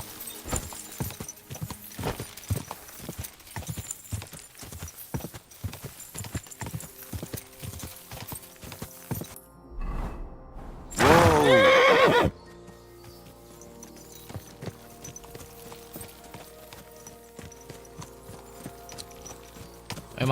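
Rhythmic clip-clop of horse hooves trotting in the video game Kingdom Come: Deliverance II, broken by a loud, close neigh partway through before the hoofbeats resume more softly.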